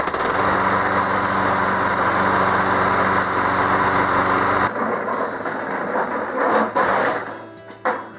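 A 12-year-old lawn mower engine idles loudly and steadily while warming up, then cuts off abruptly halfway through, leaving quieter scattered handling noises and faint clunks.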